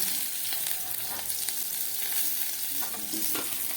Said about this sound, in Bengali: খুব ভালো করে মাছটা ভাজা হয়ে গেছে, আমি তুলে ফেলছি।